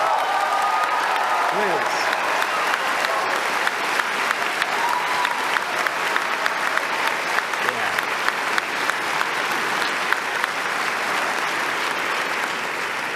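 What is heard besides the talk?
graduating class applause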